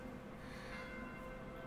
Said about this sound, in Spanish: ¿Alguien sabe por qué dobla esas insoportables campanas?